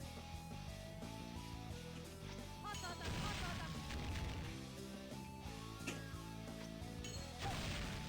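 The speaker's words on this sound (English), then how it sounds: "it detonates after it bounces and then hits her" A thrown explosive earring bounces and detonates in KOF2002UM, a loud crash and boom burst amid dense game music and effects.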